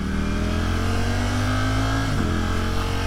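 A 2022 Ducati Streetfighter V4 motorcycle engine runs loud and close, holding a steady throaty drone with a brief shift in pitch near the end, alone with no talk.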